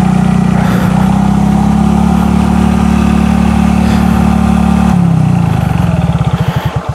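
A motorcycle, too weak to climb a steep hill road, idles loud and steady up close, then winds down into slowing, uneven putters as the engine cuts out.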